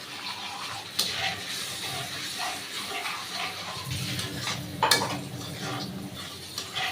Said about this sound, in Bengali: এবারে চলুন এর মধ্যে আমি অ্যাড করব জল